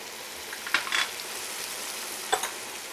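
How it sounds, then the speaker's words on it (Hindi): Turmeric and chilli powders for fish masala sizzle steadily in a hot pan, with a few light scrapes of the spoon as the spices are stirred, close and continuous. "उन सबको हमें थोड़ी देर तक भूनना है"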